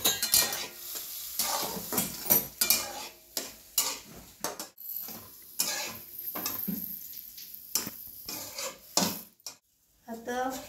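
A spoon stirs hot milk into semolina (rava) in a pot, making close, uneven bursts of scraping and clanking against the metal with brief pauses between strokes.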